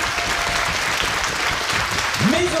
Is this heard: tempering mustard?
no